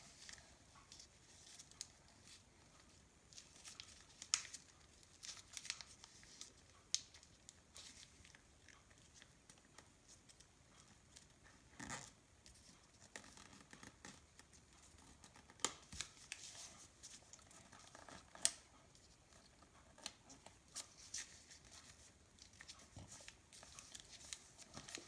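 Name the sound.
folding origami paper for a flipping frog model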